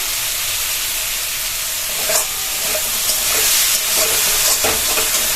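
Bengali spice paste being stir-fried (koshano) in a pan for a papad curry, a steady broad sizzle with scraping stirs growing slightly louder and busier toward the end, close and without talk.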